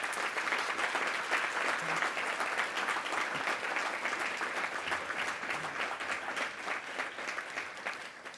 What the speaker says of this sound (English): Could we please give our students a round of applause?